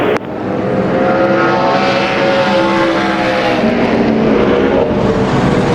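A NASCAR Nationwide Series race car on a qualifying lap at Bristol Motor Speedway roars loudly and continuously at high revs, its engine filling the track with a steady, sustained drone and no talk.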